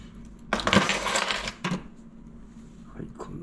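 Small metal keys and a lightweight keychain tool clink and jangle together in a few bursts, close and bright, with quieter rattles between them.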